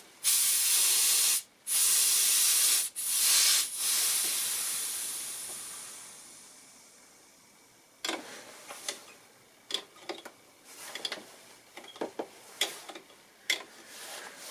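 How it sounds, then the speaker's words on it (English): Brake cleaner fluid hisses from an aerosol can in short loud bursts early on during Peugeot 307 brake work, followed by fainter scattered clicks and light handling noises. "spray a little bit of a brake clean fluid around here and clean it up"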